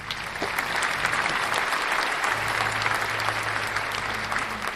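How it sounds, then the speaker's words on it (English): Loud, sustained applause from an audience fills the whole stretch without a break, greeting puppeteer Ken Kringle as he comes on stage in a Santa Claus suit. "Please give a huge round of applause for Ken Kringle."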